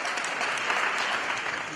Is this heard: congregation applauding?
yes